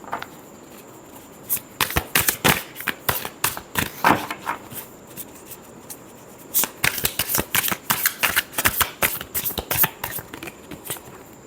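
Tarot cards being shuffled for a reading, crisp riffling bursts close up, one run of flutters then a pause and a second longer run, faint and without talk.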